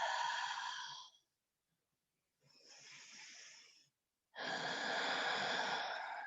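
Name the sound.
breathing in and out during a yoga exercise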